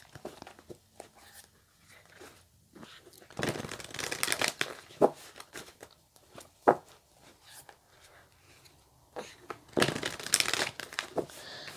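A tarot deck being shuffled, with two bursts of close, rapid riffling and papery flicking separated by quieter handling of the cards.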